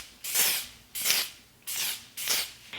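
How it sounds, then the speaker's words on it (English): Four short, soft pumps of Dior setting spray mist onto a face at close range, each a breathy hiss lasting about half a second, spaced evenly with brief pauses between. "we're just gonna go in lightly with a quick little spray"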